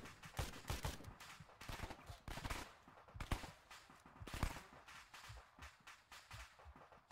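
Gunfire in the video game Arma 3: rapid bursts and single sharp shots crack repeatedly at close range, with echoing tails between volleys, and no talk over them.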